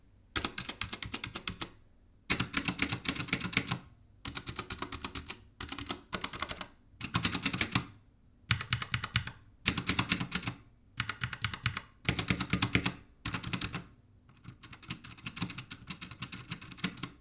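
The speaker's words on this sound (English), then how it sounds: "So the switches sound and feel pretty good, especially after a couple weeks of breaking them in" Rapid bursts of typing on an N Pro 60% mechanical keyboard with broken-in switches and rattly larger keys such as the spacebar and shift, close and clear in stretches separated by short pauses, with no voices.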